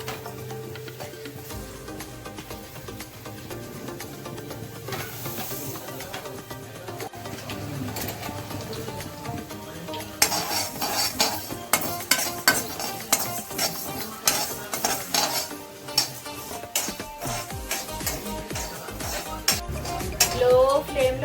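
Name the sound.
roasting cauliflower pickle ingredients and cumin in a pan on low flame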